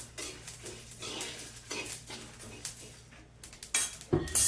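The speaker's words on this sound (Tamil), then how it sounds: "எப்படி பொரியுது பார்த்தீங்களா கடுகு?" Mustard seeds popping in a hot clay pan with the stove switched off. Faint, scattered crackles and small clinking ticks come up close and quiet, ending in a brief louder rattle.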